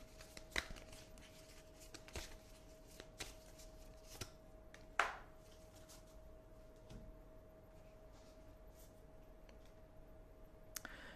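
Oracle cards are shuffled and handled in a quiet room, giving sparse, soft papery clicks and a few sharper snaps scattered across a faint background hum.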